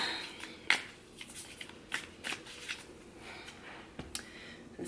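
Moonology oracle cards are shuffled and handled up close, producing soft flicks, riffles and paper slaps at irregular intervals in a quiet room.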